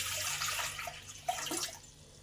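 One litre of water poured into a pan to start sugar syrup for gulab jamun: a short, close splashing pour lasting about two seconds, with no talking.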